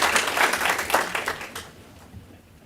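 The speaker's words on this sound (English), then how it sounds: "Please give her a round of applause." Audience applause at a live-streamed local meeting, a burst of many hands clapping that fades out after about a second and a half, leaving quiet room tone.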